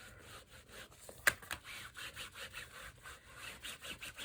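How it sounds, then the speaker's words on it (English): Tea Dye Distress ink is rubbed over debossed paper from a floral embossing folder, giving quiet, rhythmic scrubbing strokes with one brief sharp tap partway through. "I'm going to take tea dye Distress ink and I'm going to rub it over"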